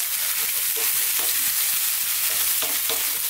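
High-heat stir-frying of cooked butter beans and chickpeas with garlic and onion: a loud, dense sizzle fills the pan, broken by repeated soft scrapes and tosses of the food, with no voices.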